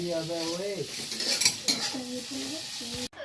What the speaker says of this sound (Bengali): এখানে উচ্ছে ভাজছি